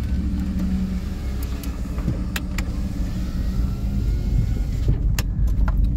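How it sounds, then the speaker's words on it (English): Car power windows roll up with a low motor hum and whir beneath steady road rumble inside the moving vehicle, ending with a few faint clicks. "Let's roll the windows up."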